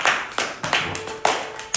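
A church congregation claps hands in a steady rhythm of sharp, loud claps, about one every third of a second, with no voices over it.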